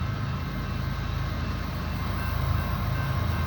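Freight train grinding uphill with pusher locomotives shoving at the rear, an ES44 at the lead; a steady, heavy low rumble of diesel engines and rolling wagons holds evenly throughout with no talk.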